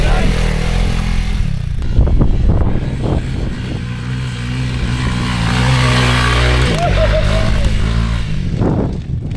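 Honda CRF 300L dirt bike climbing a tricky hill, its engine loudly revving and surging throughout with crowd voices and shouting mixed over the roar.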